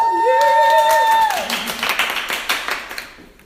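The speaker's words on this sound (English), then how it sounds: "Round of applause." Audience applause at a live show in Atlanta, Georgia breaks out after a voice, a short burst of clapping that swells then fades out within a few seconds.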